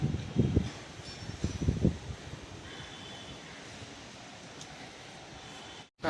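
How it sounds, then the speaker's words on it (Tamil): Gusty wind on a rooftop during a storm roars across the microphone, with heavier buffeting bursts early on and then a steady rushing noise, ending in a brief cutoff. "மேலே நிற்க முடியல அவ்வளோ ஒரு காற்று அடிக்குது"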